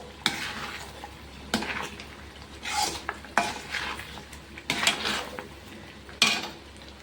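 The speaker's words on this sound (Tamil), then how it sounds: "இப்போ நம்ம மறுபடியும் இதை கொஞ்சம் கெட்டியாக வச்சு கிண்டுறோம்" A spoon stirs thick wheat flour halwa in a pan with a steady series of close scraping strokes, one roughly every second, each a rasping drag against the metal.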